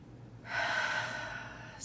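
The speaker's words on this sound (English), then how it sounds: "a couple of nice deep breaths just to open up" A single deep breath drawn in and let out during a calm morning guided session, close and soft, with a brief hiss of air at the end and no talking.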